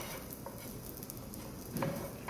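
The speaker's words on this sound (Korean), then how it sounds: "그래서 볶아주시면 돼요" Blanched vegetables are stir-fried with oil in a pan, giving a steady close sizzle with soft stirring scrapes throughout and a slightly louder burst of frying near the end.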